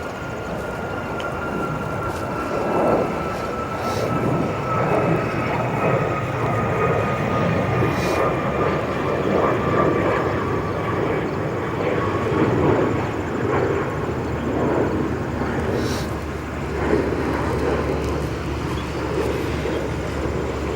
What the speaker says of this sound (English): on the north side of the airport, we have an MD-11. Quite a unique arrival for us spotters here at O'Hare.